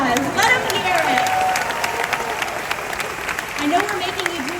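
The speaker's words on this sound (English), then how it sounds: "Let's give them another round of applause. Let them hear it." Crowd applause and cheering at a Disney's Hollywood Studios 35th anniversary event, sustained clapping with voices calling out and excited talk rising over it throughout.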